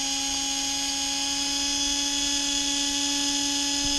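A stock Tamiya 540 brushed RC motor runs steadily at about 17,000 RPM, giving a continuous high-pitched electric whine with strong tonal hum, close and loud, unbroken throughout with no talking.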